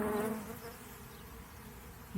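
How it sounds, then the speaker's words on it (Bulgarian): A honeybee swarm being shaken and caught into a hive on St. George's Day gives off a dense, steady buzzing hum of many wings, loud at first and then holding evenly close by, with no voices. "Успешно хванат рой или успешно стръскан"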